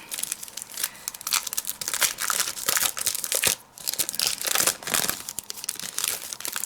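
Paper pack packaging from a Tonic Studios Sew Crafty craft set is pulled open up close, with steady crinkling, crunching and tearing that pauses briefly in the middle and carries no talk.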